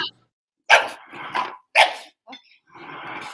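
Dogs scuffle in a short fight, with sharp close barks in three quick bursts and a growling whimper, alternating with spoken voices.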